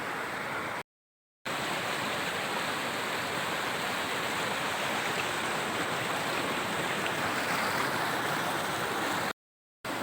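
A waterfall on the hiking route out of Pallikkal roars as a steady, broadband rush of falling water, continuous and fairly close, with no voices over it.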